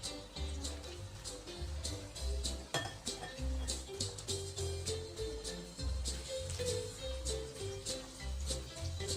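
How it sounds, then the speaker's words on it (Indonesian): Cassava cake batter stirred with melted margarine in a bowl, a spoon knocking and clinking against the sides in a steady, repeated rhythm, close and alone. "Aduk merata."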